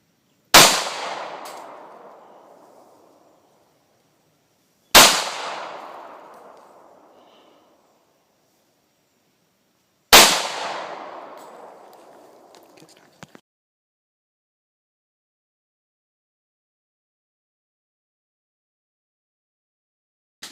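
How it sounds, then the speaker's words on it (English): Three loud, single .40 caliber pistol shots from a Carr CM40 with a short 3-inch barrel during a penetration test, each a sharp crack with a long decaying echo, evenly spaced about five seconds apart, followed by faint clicks. "We actually fired from a 4-inch SW99 40 caliber and a 3-inch CM40 40 caliber from Carr"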